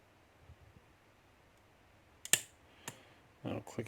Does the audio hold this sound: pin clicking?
yes